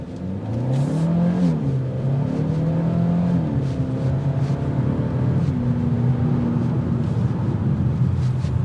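A 2025 Hyundai Elantra N-Line engine revs hard and climbs through the gears, its exhaust droning loud and steady with rising pitch sweeps.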